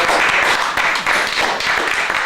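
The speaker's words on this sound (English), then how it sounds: "Give a round of applause." A brief burst of dense audience applause, many hands clapping at once in a continuous wash with no single claps standing out.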